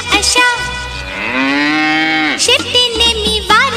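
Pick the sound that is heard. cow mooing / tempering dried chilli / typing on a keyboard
cow mooing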